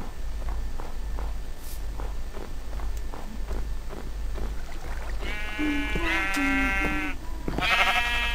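Sheep in the Minecraft video game bleat in a few wavering, tonal cries near the end, after steady rhythmic in-game footsteps and under a constant low background hum.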